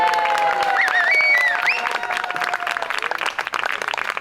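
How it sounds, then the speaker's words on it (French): A festival audience bursts into applause, a dense crackle of many hands clapping with a few whistles and cheers, loud at first and thinning slightly toward the end. "un tonnerre d'applaudissements s'il vous plaît."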